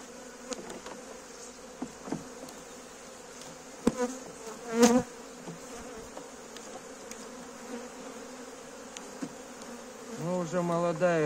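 Honey bees buzz steadily around an opened hive during early spring work, a continuous close hum with brief louder swells as individual bees fly near, and a few faint clicks of handling underneath.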